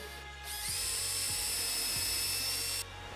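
A power drill whines steadily while driving screws during a VistaView track installation. It runs loud and close for a little over two seconds, with faint knocks under the motor and no speech.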